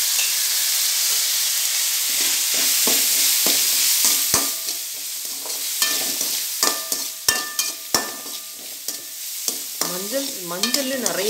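Onions sautéing in a pan with turmeric for rava kichadi, a steady sizzling hiss broken by repeated spatula scrapes and knocks against the pan, close and fairly loud, with no talking.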